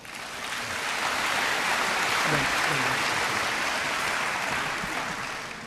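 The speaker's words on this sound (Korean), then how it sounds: "우리 박수로 맞이하겠습니다." A church mission-meeting audience claps loudly to welcome a missionary, with dense applause that swells in, holds full and even, and tapers slightly at the end.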